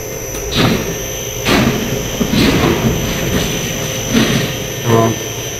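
Electric motor running under control of an Inovance VFD inverter, a steady whine and hum with recurring brief surges, fairly loud and continuous with no talk.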